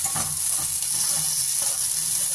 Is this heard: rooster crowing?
no